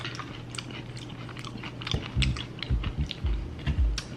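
Crunchy chicken fried steak with gravy and hot sauce being chewed close to the mic, a run of loud crisp bites and crunches in irregular rhythm over a low steady hum, with no talking.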